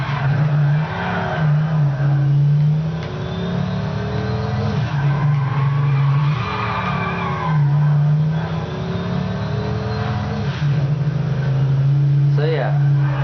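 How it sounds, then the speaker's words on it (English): A car drifts through turns in the video game Midnight Club LA, with a steady engine drone and repeated tire squeals and skids, while a person talks over the game sound. "you really can drift into your turns"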